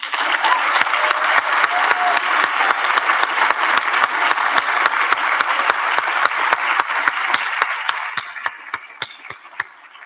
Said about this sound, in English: Please join me in congratulating Coach Brown and Mrs. Brown with a round of applause.